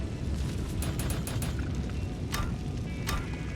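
Corpse Explosion skill going off in Diablo 2: Resurrected, a steady rumbling blast texture with several sharp crackling bursts scattered through it, dense and continuous throughout.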